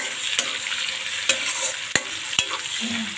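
Chopped onion and garlic fry in a hot pan with a steady, bright sizzle, broken by four sharp knocks of a spatula against the pan as it is stirred.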